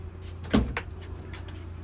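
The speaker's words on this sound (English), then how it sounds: "Door swings open." Side door of an SV model van swinging open: one solid clunk of the latch releasing, followed quickly by a lighter click, close by over a low background hum.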